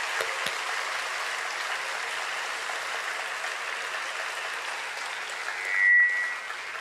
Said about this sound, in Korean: 한번 마지막으로 격려 박수 한번 쳤으면 좋겠습니다.